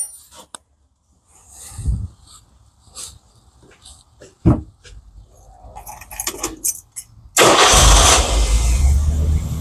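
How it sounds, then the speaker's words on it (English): A Rolls-Royce Silver Shadow II turns over and catches during brake pump repair, the engine roaring loudly into a steady close idle after scattered clicks, keys and a dog's bark, with a few words spoken. "let's start the car again."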